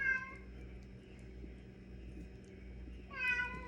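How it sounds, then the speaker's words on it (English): A domestic cat meows at the start and again near the end, two short plaintive calls asking to be let outside, fairly close over a steady low background hum. "I think my cat's wanting to get outside."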